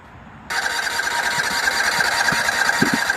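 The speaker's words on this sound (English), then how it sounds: "Look at that, won't even start." Small engine of a Scag sit-down mower cranking without catching, a steady whirring, buzzing drone that starts abruptly and keeps going at an even level with a few low knocks underneath.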